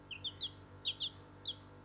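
Young cockerel chicks peep in a series of thin, high chirps, about seven in under two seconds, faint and near, over a quiet background hum with no talk.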